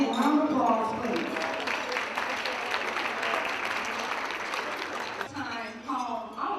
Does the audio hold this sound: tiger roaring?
no